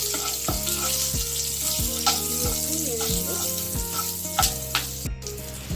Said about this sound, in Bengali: এরপর কড়াইতে একটুখানি কালো জিরে ফোড়ন দিলাম, আর দুটো কাঁচা লঙ্কা ছিঁড়ে রেখেছিলাম ওটা দিলাম